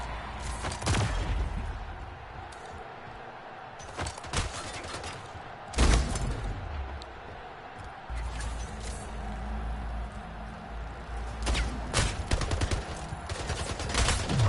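Gunfire in the video game Splitgate, from an SMG-rifle hybrid weapon, with bursts of shots and sharp single reports scattered over a low rumbling background.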